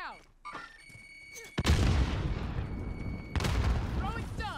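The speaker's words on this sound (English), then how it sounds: "Grenade out." A grenade explodes in Call of Duty Warzone with a loud, close boom, followed by a sustained rumble and a second blast-like burst near the end, with brief speech before it.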